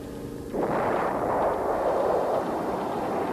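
A deep, rolling blast from American air strikes in Vietnam erupts after a brief lull and rumbles on as a loud, continuous roar of distant explosions.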